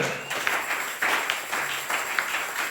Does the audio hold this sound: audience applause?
yes